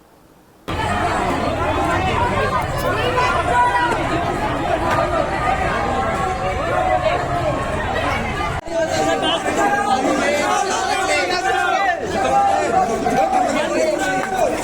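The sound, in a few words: crowd of children at a rally in a market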